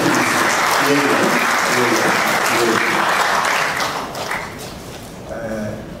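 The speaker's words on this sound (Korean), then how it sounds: "박광국 목사님 박수로 한번 부탁드립니다" A crowd at a memorial ceremony for Dr. Hulbert's 70th death anniversary applauding a church pastor: loud, dense clapping that holds steady, then thins and softens near the end, with a voice speaking over it.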